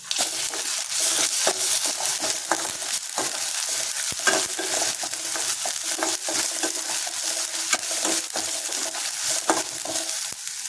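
A steady sizzle of ginger garlic paste frying in a hot pan, with repeated scraping and stirring strokes throughout.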